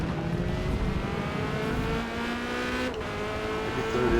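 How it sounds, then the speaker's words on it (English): Corvette C8.R race car on soft tires sliding through corners at Silverstone in a racing game, a steady loud engine drone with shifting tonal lines and a brief dip near the middle, alone with no voices. "I'm on soft tires as I slide the car around"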